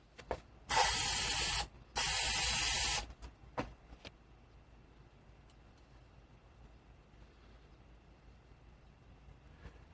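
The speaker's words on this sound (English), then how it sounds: "So I'm taking my metallic spray paint." Two long hissing bursts of metallic aerosol spray paint on a Mandalorian costume, a second or so each, followed by a few faint clicks and rattles, then quiet room tone.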